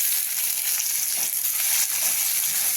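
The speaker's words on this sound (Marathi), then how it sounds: "आता टाकू थोडा कांदा छान पद्धतीने कांदा मंद गॅसवरच आपण करायलेलो आहोत" Chopped onion sizzles in a pan over a low gas flame, a steady, even hiss of frying that carries on alone without pause.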